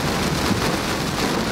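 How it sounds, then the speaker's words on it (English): Steady heavy rain hisses and patters continuously during a thunderstorm on Route 66 in Missouri, with a low rumbling undertone and no voices. "Well, we've got a bit of rain."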